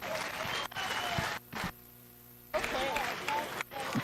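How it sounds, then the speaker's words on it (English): A crowd at a county fair junior livestock show claps for showmen leaving the ring. The applause comes in bursts, is broken by brief pauses, and sits under an announcer's voice. "Please give them a big round of applause as they exit."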